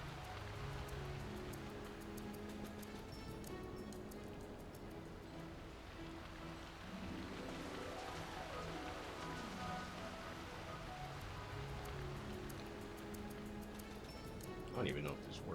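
In-game rain in Final Fantasy 12 on PS5: a steady, soft hiss of falling rain runs the whole time at low level, with a person talking over it.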